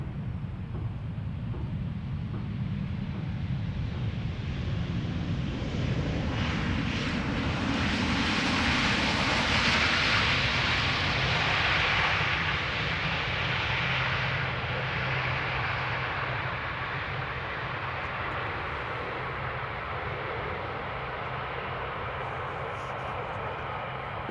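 Airplane arriving at Amsterdam Schiphol Airport, with flap tip vortices trailing in humid morning air: a loud, steady jet roar that swells to a peak near the middle and holds broad and continuous as the aircraft passes close by.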